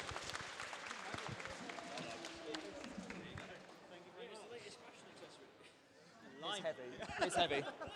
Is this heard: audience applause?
yes